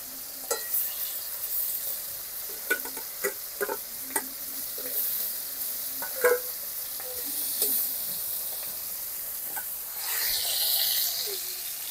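Hilsa fish heads fry in hot oil inside a clay pot, giving a steady close sizzle with scattered pops and crackles and a brighter hiss surge near the end.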